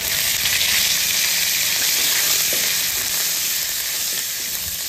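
Curry leaves frying in hot oil for a Tamil okra buttermilk curry (vendakkai mor kuzhambu), a steady, loud, close sizzle and crackle lasting throughout with no voices.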